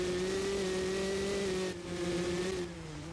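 Dirt bike engine in the MX vs. ATV Legends video game holding a steady, loud droning tone with a slight pitch dip as it slows, continuous and close throughout.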